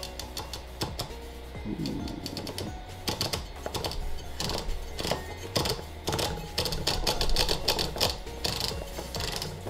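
The large grind size dial on a Fellow Ode coffee grinder with 64mm burrs is turned in a run of sharp ratcheting clicks, irregular and close, with a brief exclamation from a person.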